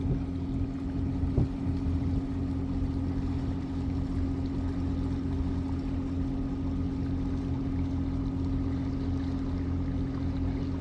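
Twin Yanmar 3YM30 marine diesel engines run steadily aboard a cruising boat on flat seas, a constant low droning hum with no talk and little variation throughout.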